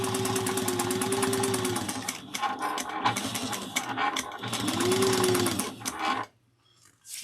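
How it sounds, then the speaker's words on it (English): A sewing machine topstitches fabric in two long, fast, close runs of rapid needle chatter, separated by a short pause with lighter clicks, then stops into near silence. "we're going to top stitches close"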